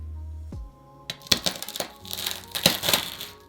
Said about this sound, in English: I feel like we'll get nice crispy cuts.